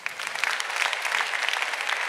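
Brief burst of full, even applause from a literary prize audience, many hands clapping close together at a steady level.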